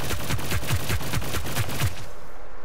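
Automatic pistol fire in the video game Hyper Scape: a rapid, evenly spaced string of about a dozen loud, close shots that stops abruptly, leaving near silence.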